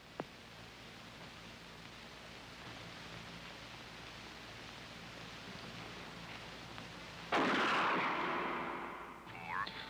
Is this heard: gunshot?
yes